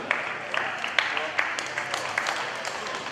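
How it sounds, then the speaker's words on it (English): Audience applause at a raw powerlifting competition after a squat attempt, a dense steady patter of clapping filling the hall for a few seconds with some sharper individual claps near the front. "Let's give a round of applause."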